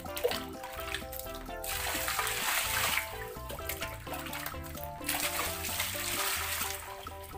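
Water poured from above to rinse sticky sand and mud off a toy sand truck, a steady splashing stream that runs nearly the whole time under faint tonal background music.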